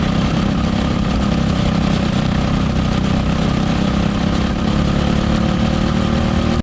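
A child's racing go-kart engine runs steadily up close, a loud continuous buzzing drone that holds a constant pitch before cutting off abruptly at the end.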